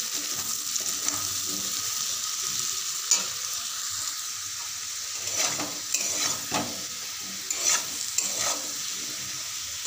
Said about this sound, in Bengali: আলুটা লাল করে ভাজা হয়ে গেছে।